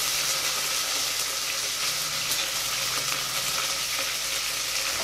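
Curry leaves, green chilies and onions fry in hot oil for biryani, giving a bright, even sizzle that holds steady and close throughout with faint stirring scrapes.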